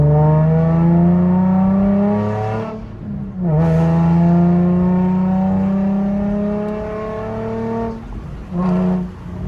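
A Nissan 350Z Nismo engine and exhaust rev up and settle repeatedly, loud and close, with strong rising harmonic sweeps and brief dips between pulls, heard alone without talk.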